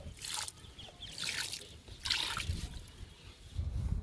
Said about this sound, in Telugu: గులాబీలకి, మల్లె మొక్కలకి, మందారాలకి మట్టిని లూజ్ చేసి కిచెన్ వేస్ట్ లిక్విడ్ ఇచ్చామండి